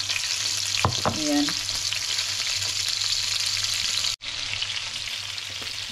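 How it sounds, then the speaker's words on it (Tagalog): Salmon fries in a pan with a constant close sizzling hiss, a few clinks early on and a brief cut near the end, while a voice speaks briefly. "naprito ko na po siya ng 2 minutes guys"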